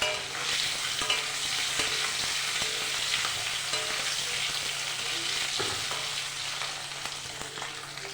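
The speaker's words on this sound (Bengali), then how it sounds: "দুটো ডিম আর একটা আলু আমি সেদ্ধ করে নিয়েছি, ভেজে নিচ্ছি ভালো করে।" Boiled eggs and a potato fry in hot oil, giving a steady, close sizzle with light stirring scrapes that runs unbroken throughout.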